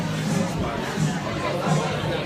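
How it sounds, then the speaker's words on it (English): Crowd chatter as guests stream into a red carpet event venue, a steady hum of many overlapping voices close by with no single voice standing out. "the crowd continues making its way in here"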